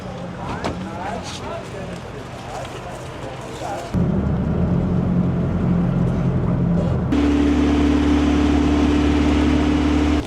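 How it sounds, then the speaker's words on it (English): A marshrutka minibus rides between Kutaisi and Tskaltubo in Georgia, its engine droning steadily up close, shifting in pitch and growing louder as it speeds up, with faint voices in the background. "What a marshrutka ride"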